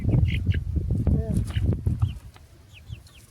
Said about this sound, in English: Chickens, look, there you go.